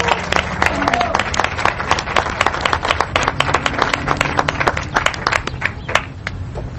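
An audience bursts into lively applause at a donation gathering, with dense, irregular clapping from many hands, fairly close and loud, and a low murmur of voices underneath throughout.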